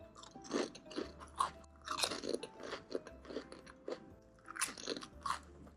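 Potato chips crunch loudly and close up while being eaten, a run of sharp crisp bites and chews in an uneven rhythm with no talk.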